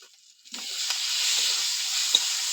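Potatoes dropped into hot oil with fried onion and garlic paste for a snakehead fish curry burst into a loud, close, steady sizzle after a brief quiet moment, with a few small stirring knocks over the continuous hiss.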